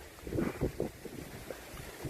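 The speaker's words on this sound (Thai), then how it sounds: "ลมแรงมาก" Strong wind gusting outdoors at a riverside fishing spot in Kaeng Krachan, a steady rushing roar with some low buffeting.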